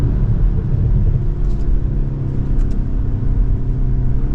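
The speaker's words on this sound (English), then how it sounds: "we get some pops in that exhaust" A 2024 BMW X1 M35i driven hard, its exhaust rumbling loudly and steadily with a couple of short crackling pops breaking through partway, no voices.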